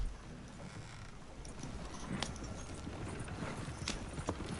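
Diamond the horse trots along in Red Dead Redemption 2, a quiet, even clip-clop of hooves over soft ground, with a few sharper footfalls standing out near the end; no one speaks.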